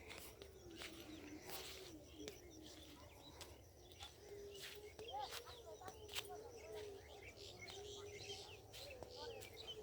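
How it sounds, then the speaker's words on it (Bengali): Faint birds chirping at a distance over a mustard field on a winter morning, scattered short calls over a steady low background hum. "পাখির কিচির মিচির শব্দ"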